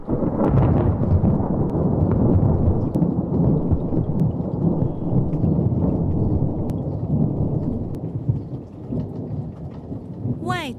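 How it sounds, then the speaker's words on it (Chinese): Heavy thunderstorm with loud, close rolling thunder rumbling continuously over steady pouring rain, alone without any voices. "外头打雷闪电，外出请小心。"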